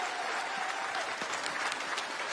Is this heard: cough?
no